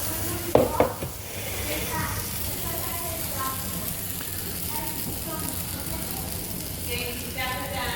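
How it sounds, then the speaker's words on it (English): Loud, continuous sizzling of a potato mixture frying in very hot oil in a skillet, a dense crackling hiss with occasional scraping and clinking from the pan. "now the oil is hot, very hot, and we're going to pour in the mixture into the frying pan"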